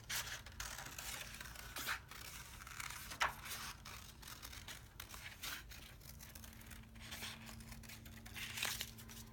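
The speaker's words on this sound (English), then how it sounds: "We're gonna cut the circles out first, cutting on the dotted line." Scissors cut paper circles along a dotted line in a first-grade classroom art lesson, with faint, quiet snips, rustles and crinkles repeating irregularly throughout.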